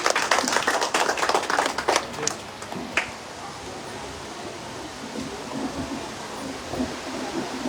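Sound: applause welcoming guests at school ceremony

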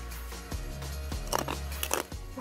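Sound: crunching kale salad with croutons and sunflower seeds

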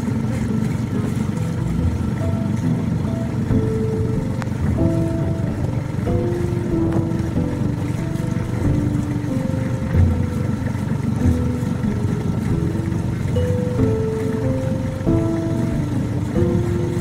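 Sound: small motorboat engine idling

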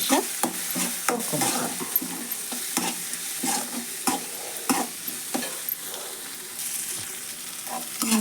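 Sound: tomato and onion frying in oil with turmeric, being stirred

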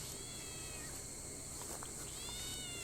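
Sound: cat meowing

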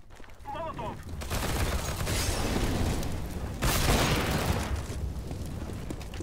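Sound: Molotov thrown, CS:GO video game

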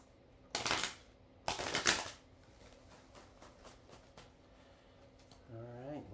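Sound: shuffling tarot cards

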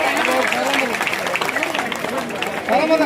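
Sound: loud applause from audience

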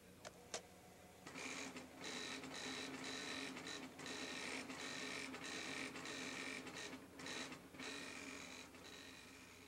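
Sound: TRS-80 printer printing a letter

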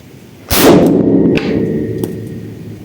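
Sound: gunfire from military weapons at a shooting range

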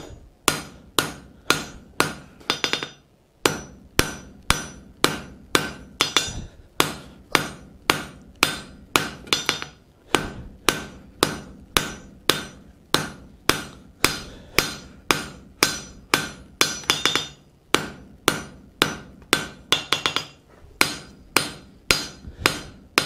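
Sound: blacksmith hammering hot steel to draw out a hook

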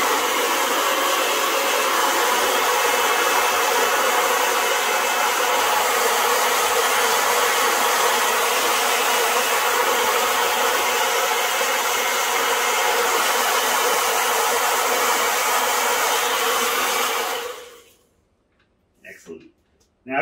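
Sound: heat gun warming vinyl wrap on e-scooter

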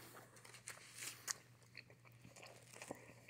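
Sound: biting and chewing Wendy's fast food

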